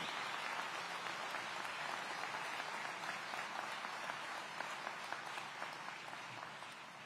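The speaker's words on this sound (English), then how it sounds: "Give a round of applause for AFD." Distant applause from a large audience at a city public safety event, a steady wash of clapping that slowly tapers off toward the end.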